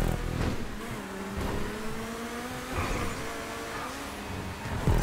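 Race car engine in GTA 5 revving steadily and loudly throughout, with pitch rising and falling as it accelerates on a track in the Race Creator, no talk over it.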